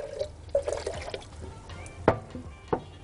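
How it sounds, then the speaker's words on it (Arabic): Water poured into a jar of tomato sauce in a home kitchen, faint liquid splashes and trickles in short bursts with a couple of sharper drips, quiet and close. "انا عايزه اخد شويه الصلصه اللي في الجار دول، فهحط لهم حبه ميه."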